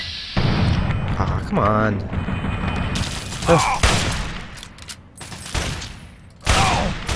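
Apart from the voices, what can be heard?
hunting rifle gunshots in video game Fallout 3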